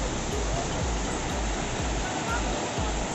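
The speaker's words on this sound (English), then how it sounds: "So this is how the waterfall looks like." Neergarh waterfall, a multi-storeyed cascade with turquoise plunge pools, roars as a steady, loud broadband rush of falling water, continuous and dense throughout, with faint low thumps beneath.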